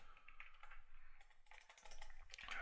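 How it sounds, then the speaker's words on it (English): Quick, uneven typing on a computer keyboard while writing Excel 2010 VBA code, soft close-up key clicks in short bursts with brief pauses, no speech. "typing random things"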